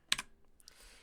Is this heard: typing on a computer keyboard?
yes